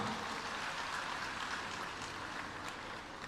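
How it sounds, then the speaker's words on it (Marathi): Loud, dense applause fills a crowded hall at a state-level agricultural festival, a continuous wash of clapping from many hands that holds steady and close without a break. "त्यांचं आपण सगळ्यांनी जोरदार टाळ्या वाजून स्वागत करा"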